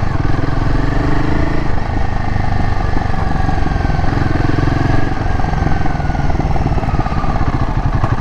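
A Royal Enfield Himalayan 450 motorcycle is ridden on the road, its engine droning steadily and close with a rough, pulsing mid-range note and some wind rumble, holding a fairly even pace throughout.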